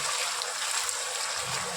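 A small splash of water is poured into a pan of cluster beans, giving a brief, continuous hissing pour that is close and fairly quiet.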